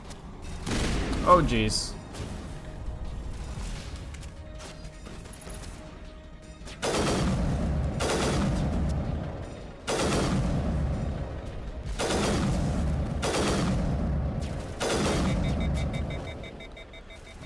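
Repeated bursts of enemy gunfire from a Mass Effect 1 Legendary Edition firefight, loud rolling volleys arriving every couple of seconds, with someone talking briefly over the shooting.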